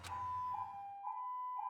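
A siren rings out from Monokuma in Danganronpa 2: a steady, faint electronic wail that holds one pitch and wavers slightly as it pulses.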